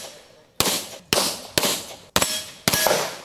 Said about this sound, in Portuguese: nós estamos com a disciplina de armamento e tiro